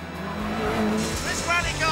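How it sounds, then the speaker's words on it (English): A 1998 Ford Puma Cosworth four-wheel-drive rally car engine revs and drives, with a loud, close, droning note and a voice talking over it. "fire up the unique Puma Cosworth"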